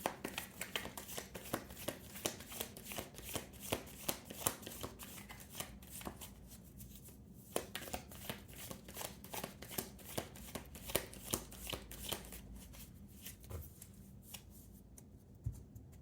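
Tarot cards are shuffled continuously, a close, steady run of papery riffling and soft flicks with no talking, during a love reading.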